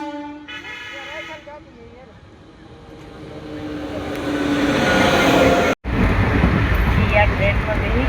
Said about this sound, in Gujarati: તો હાલો ટ્રેન આવી ગઈ